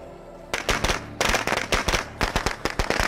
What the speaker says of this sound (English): Let's get the firecracker situation going.